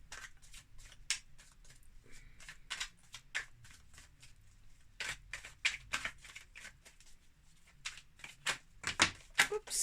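Tarot or oracle playing cards being shuffled by hand, a quick irregular series of crisp flicks and slaps with a few cards slipping out of the deck, close and fairly quiet with no voices.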